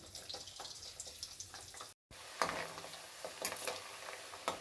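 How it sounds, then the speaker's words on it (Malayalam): Garlic and ginger fry in plenty of oil for a fish pickle, a soft continuous sizzle with intermittent stirring scrapes and clinks close by, briefly cut out near the middle. "വെളുത്തുള്ളി ഇടാമേ. ഇഞ്ചിയും കൂടി ഇടാം."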